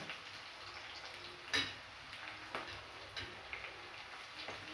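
Curry leaves dropped into semolina roasting in a pan with fried peanuts for upma, giving a few faint, sparse crackles and pops over a soft steady sizzle.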